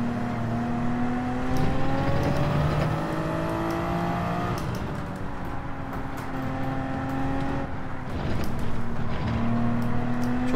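Race cars roar through a five-lap Group 3 race in Gran Turismo 7, engines droning steadily with rising and falling pitch as cars shift gears and pass close by, loud and continuous throughout.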